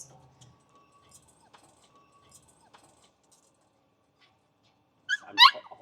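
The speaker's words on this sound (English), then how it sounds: "So I got Sadie, 3 brown puppies, and I'm taking Joy back." Faint high-pitched whimpers and yips from three brown puppies rise near the end after a mostly quiet stretch with a few small clicks.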